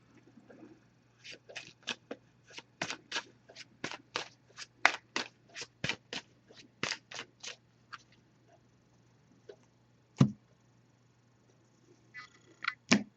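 An oracle card deck is shuffled by hand close by, making a fast, even run of crisp papery flicks. These thin out into a few scattered taps and rustles, with no talk.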